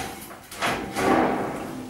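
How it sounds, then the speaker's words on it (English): A dishwasher side panel being pulled away from the machine, a short scraping slide of sheet metal in two quick pushes, close and fairly loud with no talking. "and the panel comes away."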